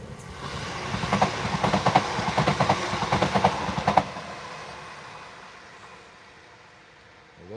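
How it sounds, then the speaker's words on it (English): A London Midland Class 350 train passes nearby, a steady rumbling roar with rhythmic clickety-clack wheel beats for several seconds before fading into the distance. "The London Midland Railways Class 350."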